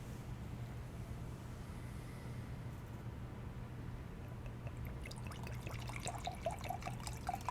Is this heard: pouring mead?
yes